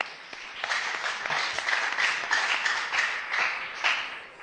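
Audience applause for the Bolingo quiz team at a school quiz contest, a sustained patter of many hands clapping, rising and dipping slightly in loudness but never stopping.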